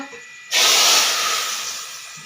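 Hot tadka tempering poured onto cooked moong dal in a Punjabi home kitchen, bursting into a sudden loud hiss that slowly fades into a softer steady sizzle.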